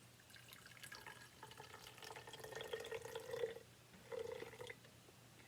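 Three ounces of water run into a reborn doll bottle from a tap, a steady close trickle that rises in pitch and briefly stops before a second short fill.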